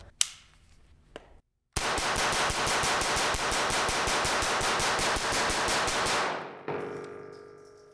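HK MP5 .22 rifle firing a rapid continuous string of sharp cracks for about four and a half seconds, loud and close, after a couple of single clicks and a short pause, with clattering afterward.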